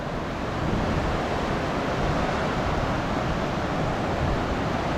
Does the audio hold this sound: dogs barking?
no